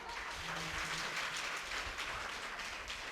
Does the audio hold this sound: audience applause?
yes